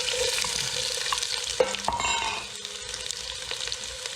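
Onion hits hot palm oil in a pan for a Sierra Leonean plasas stew, a loud close sizzle with a few stirring knocks and scrapes, the frying hiss settling to a steady crackle.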